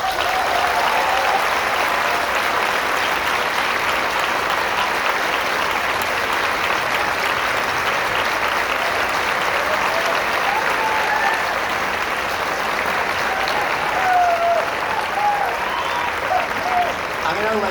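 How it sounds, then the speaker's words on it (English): A large audience gives sustained applause welcoming the cast of the film Killers of the Flower Moon, a loud unbroken wash of clapping with scattered cheers and whoops, with a voice talking faintly beneath. "we're going to soak in the applause"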